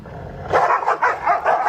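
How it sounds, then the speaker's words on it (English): Several dogs bark in a rapid, repeated burst of loud, close barks, with a low rumble just before they start. "You know, we don't want to be like these dogs. You know, all that barking."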